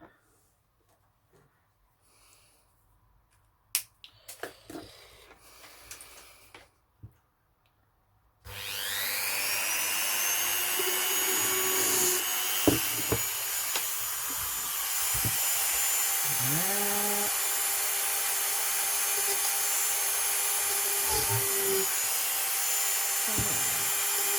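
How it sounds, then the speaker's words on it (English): After a few quiet knocks and clatters, a power drill starts up and whirs steadily and loudly, its pitch dipping under load as it bites in. "that's the drilling done"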